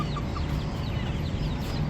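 Backyard hens cluck softly and intermittently at a distance, with faint chirps over a low steady background hum.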